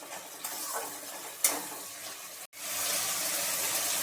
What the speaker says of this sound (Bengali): আমি গ্যাসের ফ্লেমকে আবার হাই করে দিলাম, দিয়ে টমেটোর সাথে মশলাটা আবার কষতে হবে।